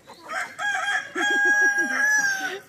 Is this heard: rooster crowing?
yes